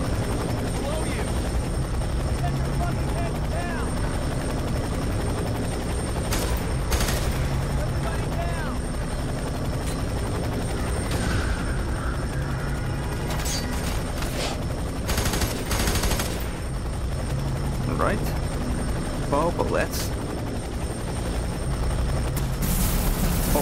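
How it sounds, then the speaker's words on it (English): A helicopter hovers overhead in the video game F.E.A.R. 3, its rotor a loud, continuous drone through the whole stretch. Bursts of gunfire and a few impacts break in over it. "Chopper Echo 2-4 is right on top of you."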